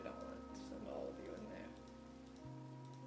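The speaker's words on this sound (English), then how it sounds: "Why is it always raining?" Steady rain falls in the Minecraft video game as a constant soft hiss of drops beneath low game tones, with a voice talking over it.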